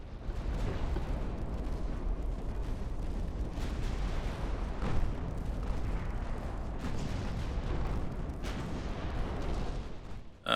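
Warship main guns in Ultimate Admiral Dreadnoughts thunder in a dense, continuous barrage, overlapping deep booms and rumbling blasts rolling on without pause, with occasional louder detonations rising from the sustained low roar.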